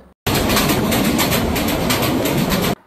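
A train crosses the Ashuganj–Bhairab railway bridge over the Meghna River in Bangladesh, making a loud, dense, steady rumble with a faint rhythmic clatter, as heard from on board.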